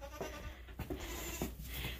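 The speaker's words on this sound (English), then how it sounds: "So these are the goats." Farm goats, including a doe and a buck, bleat in several short, separate calls at moderate distance over quiet outdoor background, with no one talking.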